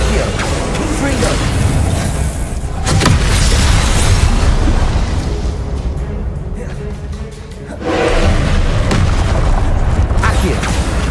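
A Confringo blasting spell in Hogwarts Legacy sets off repeated heavy booms and rumbling bursts, one around the middle and another later, over constant game noise and talk.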